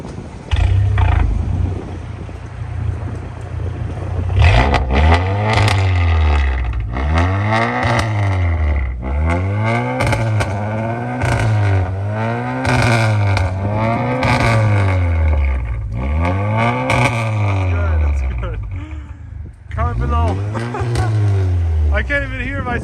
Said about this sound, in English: I'll definitely have him do a startup and a few revs for you guys